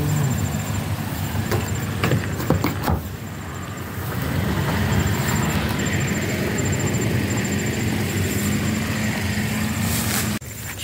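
A vehicle passes on a road at night, a broad engine and tire rumble that swells and holds steady, with a few sharp clicks and knocks early on, fairly loud and continuous, no talking.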